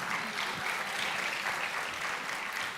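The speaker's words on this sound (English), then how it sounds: "Clap your hands for Falit, please" Continuous, even applause from a summit audience for the head of the Indian delegation at a Y20 summit in Varanasi, many hands clapping steadily at moderate distance throughout.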